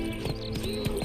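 Horse hooves clip-clop in The Witcher 3 as a rider sets off, a rapid, fairly close run of hoof strikes over a steady game backdrop with no voices.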